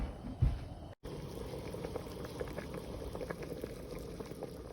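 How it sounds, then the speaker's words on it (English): Black bean soup at a rolling boil in a pot, a steady bubbling and gurgling that runs throughout after a brief bump near the start. "I'm going to bring this up to a boil"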